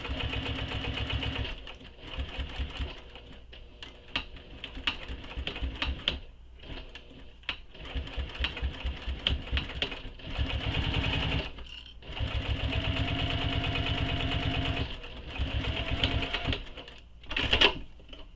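Top stitching on a Wild Rose shoulder bag, a sewing machine runs in several bursts of rapid, rattling stitches, separated by short pauses and stop-start handling.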